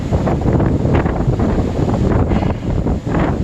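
Strong outdoor wind buffets the microphone with a constant, heavy rumbling roar that rises and falls in gusts, loud and close, with no voice.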